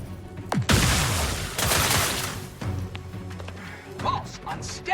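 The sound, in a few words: grenade explosion in the video game The Outer Worlds 2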